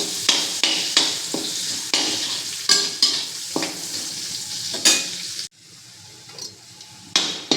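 Sliced onions and cardamom fry in hot oil in a pan, with a steady sizzle broken by repeated scraping stirs of a spoon, close and fairly loud, no talking.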